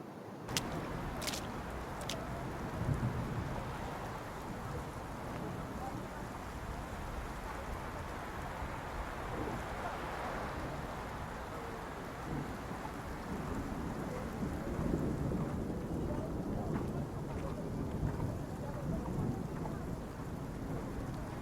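Steady rain and rumbling thunder in the video game Love and Deepspace, a low continuous downpour with rolling thunder swelling midway and near the end, without speech.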